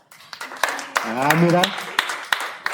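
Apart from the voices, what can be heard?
applause, clapping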